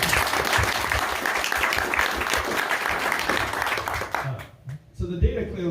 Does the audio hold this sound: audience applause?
yes